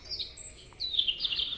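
Small birds chirp in high, bright tweets, a few short calls followed by a longer, busier run of chirping close by, with no one talking.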